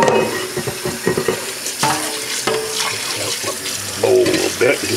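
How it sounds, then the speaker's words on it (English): Water runs from a kitchen sink tap while dressed squirrels are rinsed, a steady close splashing and gurgling stream with shifting spatters as items move under the flow. "I take this right over to the sink, and I just turn the tap right on in it."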